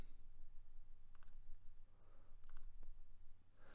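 A computer mouse clicks a few times in quick, light taps over a low steady background hum.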